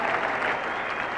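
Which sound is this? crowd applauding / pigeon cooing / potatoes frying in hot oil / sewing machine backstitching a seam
crowd applauding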